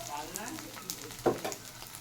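Food frying in a pan as its water cooks off, a faint, soft sizzle with a few light stirring scrapes and small crackles, close and quiet.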